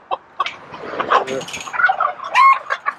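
Chickens in a farm coop cluck and squawk in a busy, overlapping run of calls, fairly close and loud, with a brief spoken remark mixed in.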